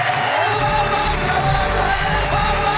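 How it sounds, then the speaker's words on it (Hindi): A crowd at a live Hindi poetry recital cheering, whooping and shouting in a steady, dense roar that holds for the whole stretch, loud and close. "जोरदार ताली।"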